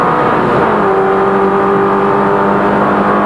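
Loud race car engine, a Rover in club racing, howling at high revs as it crosses the finish line, the pitch sliding down steadily as it passes close by.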